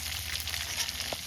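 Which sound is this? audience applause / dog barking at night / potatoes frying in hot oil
potatoes frying in hot oil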